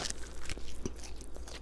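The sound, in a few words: crunch of biting a homemade fried chicken tender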